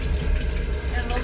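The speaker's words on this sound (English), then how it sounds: "So when you flush, it just goes down." A foot-pedal toilet flushing aboard a second-class Russian sleeper train to St Petersburg gives a steady, close rushing wash of water and air that fills the whole moment, mixed with train rumble.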